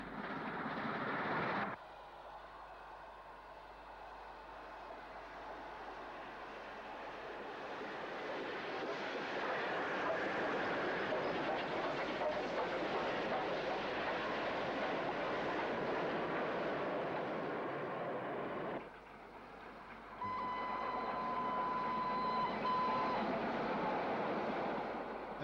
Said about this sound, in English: The train is seen either side of Romsey.